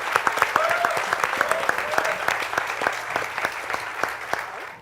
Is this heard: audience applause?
yes